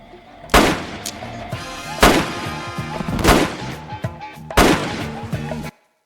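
Gunfire in a gangster film scene: four heavy, booming shots spaced about a second apart, each with a reverberant tail over a low background, ending abruptly.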